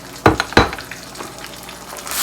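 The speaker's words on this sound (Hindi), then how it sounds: "तो हल्का सा फ्राई करके मैं गोश्त को अदरक लहसुन के साथ थोड़ा" Pieces of goat or mutton meat fry lightly with ginger and garlic in a pot for a Pakistani-style korma, giving two sharp stirring clatters early on over a soft, steady sizzle.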